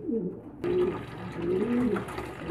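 Pigeons cooing close by while waiting for bath water, a few soft, low, rolling coos over a steady background hum.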